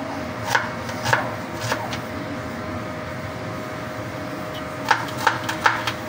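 Knife chopping bell pepper and onion on a cutting board, a few crisp knocks in a short group, a pause, then another quick burst over a steady background hum.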